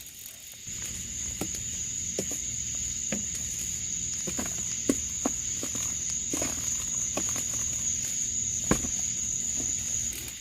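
A dying cicada buzzes on the ground in a steady, close, high drone, broken by scattered faint clicks and rustles.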